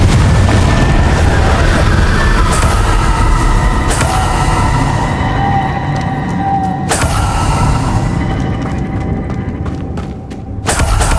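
Confringo fire spell explosions from the Hogwarts Legacy video game, a loud, continuous roar of blasts and rumbling with sharp booming hits, mixed with faint game effects and no talking.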